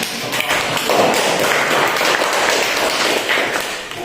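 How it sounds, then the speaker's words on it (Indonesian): A classroom of students applauds after a group presentation, a dense patter of many hands clapping at once, fairly loud and continuous for about four seconds. "Tepuk tangan."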